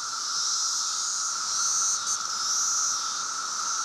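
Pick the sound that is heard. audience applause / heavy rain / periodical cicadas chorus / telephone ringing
periodical cicadas chorus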